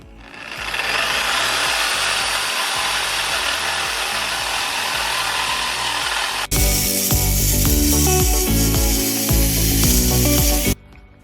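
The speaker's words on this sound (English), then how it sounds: "we jumped right into cutting these pipes" A power tool grinds through the exhaust pipes of a 2011 BMW E92 during a resonator and secondary cat delete, a loud sustained cutting roar that shifts abruptly to a harsher, louder tone midway, then stops.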